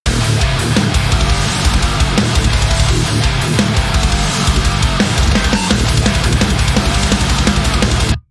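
Bass guitar driven through a Darkglass Ultra pedal and a basic EQ chain within a dense, loud band mix, with heavy low-end chugging and steady pounding rhythm throughout, no speech.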